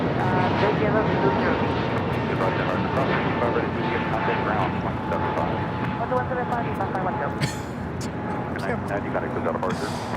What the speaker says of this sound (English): That is KLM 602 taking off to Amsterdam on the 777-200 ER